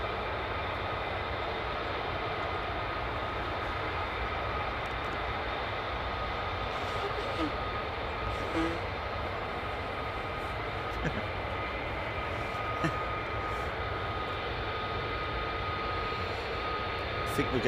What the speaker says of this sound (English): I think we're going to see a couple more F-35s joining the party any moment now from the right side.